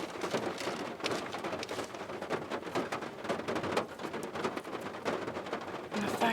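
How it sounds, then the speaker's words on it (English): Loud, steady rain pours down on a campsite, a dense continuous patter with no breaks. "the rain is so flippin' loud like that"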